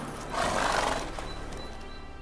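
In The Witcher 3: Wild Hunt, a horse gives a short, loud neigh up close, followed by soft hoof clops and a low background rumble.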